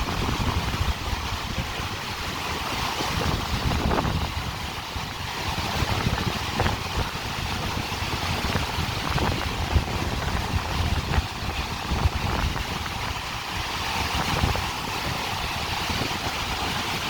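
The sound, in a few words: Caspian Sea surf and waves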